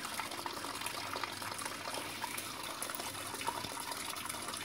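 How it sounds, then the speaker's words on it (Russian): Diesel fuel drains from the fuel filters of a TEP70 locomotive diesel engine, a steady continuous gush and trickle of liquid close by with no talk. "Перед тем, как их снять, надо слить топливо. Ну что сейчас и происходит."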